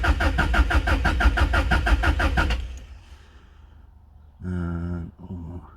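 A 1995 JDM Subaru WRX engine cranks rhythmically for about two and a half seconds without firing, as the crank sensor is unplugged, then falls quiet before two more short crank bursts.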